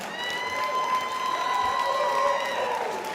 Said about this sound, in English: let's have a big round of applause for Rob Patten, our honoree tonight